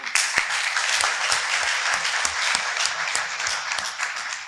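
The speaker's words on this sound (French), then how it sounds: "Et je voudrais que vous l'applaudissiez." An audience in a French evening news setting applauds steadily, a loud, dense wash of clapping that holds evenly throughout with no clear pauses.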